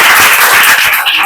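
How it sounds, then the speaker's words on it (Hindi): A group of schoolchildren at a village primary school claps together, a dense steady patter of applause lasting the whole short stretch, fairly loud and close. "ताली बजाइए सबको"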